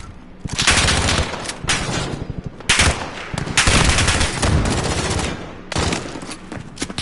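Shotgun fire from the Olympia in a Call of Duty game, loud booming blasts in quick succession with short gaps, dense and close, no talking.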